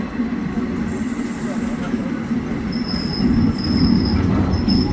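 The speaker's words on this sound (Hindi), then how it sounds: "अपनी ट्रेन पहुंच चुकी है अम्बाला सिटी रेलवे स्टेशन और ट्रेन आई है प्लेटफॉर्म नंबर 1 पर" An Intercity Express hauled by a powerful WDG 4G diesel locomotive rolls in on the main line at platform 1 of Ambala City station, with a steady rumble of wheels over rails and rising railcar noise as it draws near.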